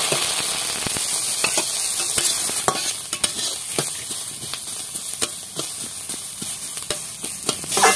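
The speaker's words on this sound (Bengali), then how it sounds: "এখানে দুটো গোটা পেঁয়াজ আর এখানে একটা রসুন, গোটা একটা রসুন একসঙ্গে ভেজে নেব" Whole onions and a whole garlic bulb fry in hot oil with a steady close sizzle, broken by scattered sharp pops and stirring clicks throughout.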